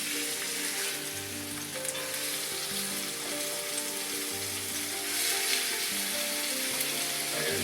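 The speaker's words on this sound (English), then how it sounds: "The shrimp should cook really quickly. Get that nice fragrant garlic." Shrimp and chopped garlic sizzle in a hot pan with a continuous, fairly soft crackling hiss that stays close and steady and has no talking over it.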